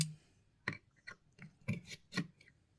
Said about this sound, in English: So we need to take this screws off.